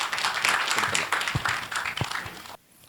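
A round of applause from the audience at a medical symposium, steady clapping from many hands that fades out near the end.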